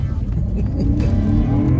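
A heavy 5,500-pound Bentley Flying Spur V8S launches hard off the line, its V8 engine giving a loud, close, continuous low roar that holds strong throughout with no talk over it.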